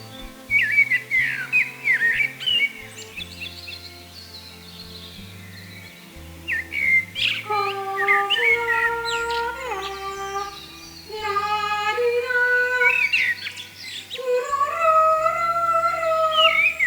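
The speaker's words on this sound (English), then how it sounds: "I'm singing here doing kulning, and I thought this would be a very, very loud noise" A woman singing kulning, the Swedish herding call, early in the morning: high piercing sustained calls with sliding, warbling pitch, phrases separated by brief pauses, loud and alone over a faint low background.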